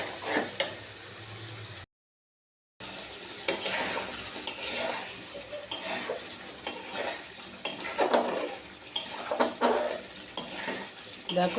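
Spice paste of ginger, cumin, chili and garlic with fried tomato, turmeric and salt sizzles in a pan for potato curry, under constant close stirring with regular spoon scrapes and a brief silent break early on.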